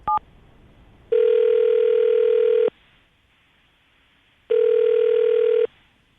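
A telephone ring tone sounds loud and close in two long steady bursts separated by a pause, after a brief electronic beep.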